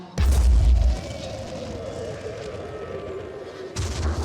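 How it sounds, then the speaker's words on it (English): Artillery bombardment in the video game Phoenix Point: a loud, heavy explosion boom opens, a rumbling tail fades, then another blast hits near the end. "we'll carry on with the bombardment"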